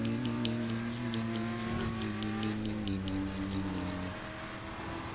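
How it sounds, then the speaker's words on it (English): A small car engine in the video game Saints Row IV hums steadily with a whining tone that rises and falls slightly, then drops off near the end; no voices. "Driving a little car."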